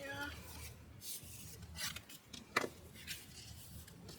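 Paper is burnished onto a craft wedding album, producing soft, close rubbing and scraping strokes in a quiet room, with one sharper scrape partway through.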